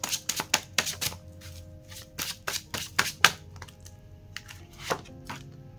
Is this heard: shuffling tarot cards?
yes